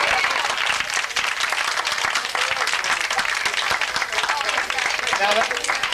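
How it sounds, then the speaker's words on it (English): Applause from an audience at an evening family club event, a dense continuous clapping that stays loud and even throughout, with voices mixed in under it. "I think we can all join in just a little round of applause"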